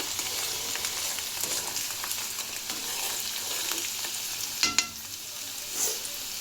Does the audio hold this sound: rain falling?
no